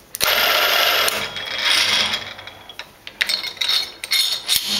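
Drawbar being tightened on an HM45 milling machine: close, loud metallic ratcheting and clicking mechanism sounds in bursts, with sharp clinks near the start and end.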